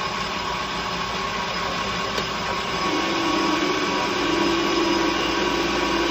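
Metal lathe cutting steel under full load while making a four-jaw chuck key, a steady close mechanical whine and hum with a grinding cutting tone that strengthens slightly partway through, no talking.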